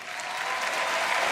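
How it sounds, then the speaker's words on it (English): A large arena crowd of fans at the 2018 EU LCS Summer Split League of Legends finals in Madrid, Fnatic versus Schalke 04, keeps up continuous loud applause and cheering with no break. "Madrid fans cheering"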